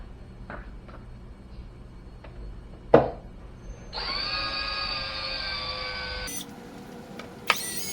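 Power driver with a Torx bit backing screws out of a BMW M5 airbox cover, a short sharp click then a sustained whirring spin lasting a few seconds, followed by brief bursts of motor noise, close up.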